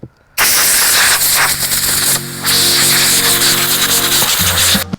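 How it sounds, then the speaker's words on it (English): A compressed-air blowgun blasts dirt off an RC vehicle, giving a loud, steady broadband hiss in two long bursts separated by a brief pause, with a faint mechanical hum underneath and no talking. "you just plug in the air compressor, spray it down, and you can get rid of most of the dirt on these things"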